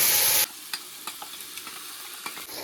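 Ground spice paste of onion, ginger and garlic fries in oil with cumin while cooking Bengali tel koi fish, giving a loud hiss at first, then a quieter steady sizzle broken by soft stirring taps.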